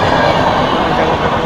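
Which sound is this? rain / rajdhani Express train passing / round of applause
rajdhani Express train passing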